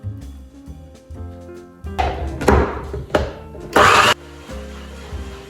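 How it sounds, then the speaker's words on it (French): A blender whirs in short, loud pulses as it purées gazpacho ingredients, including garlic, olive, balsamic vinegar, salt and pepper, with thunks from the lid and jar between the bursts and a final strong blast. "Plus qu'à fermer et à mixer."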